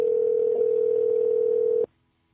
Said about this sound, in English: Calling the phone of a drunk person.